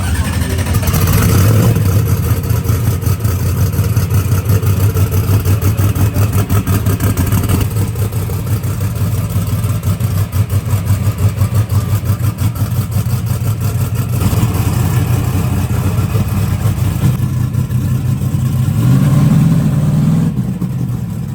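A loud nitro funny car engine rumbles and revs steadily at a drag race, throttle rising and falling in waves, close and continuous throughout.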